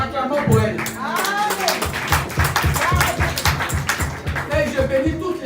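Church convention audience applauding in steady rhythmic unison, a run of even, fast claps continuing under a preacher's voice and singing.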